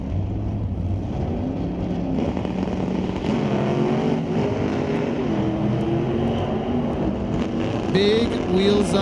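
Drag race cars, including a 1992 Lumina, launch side by side with big wheels-up starts at Mission Raceway Park in an ET bracket race, a steady loud engine roar carrying through the whole run with a commentator talking over it.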